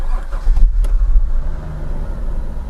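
An imported Japanese twin turbo Super Coupe engine running rough right after starting, a deep uneven rumble with loud low-end surges, close and without talk.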